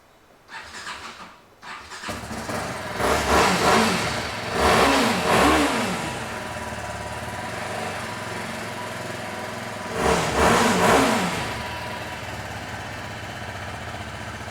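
A TVS Apache RR 310 motorcycle engine starts after a brief crank, then idles close by with two rising revs a few seconds apart, steady and loud, no talk.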